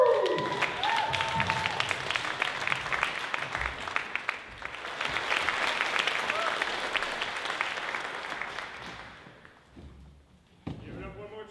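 Open mic audience applauding after a performer is introduced, a dense wash of clapping and a few cheers swelling and holding for several seconds before fading out, with some indistinct voices mixed in.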